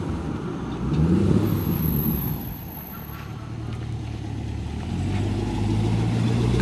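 A Chevrolet Camaro engine rumbles nearby in a low, steady drone that swells slightly and then settles, with no voices over it.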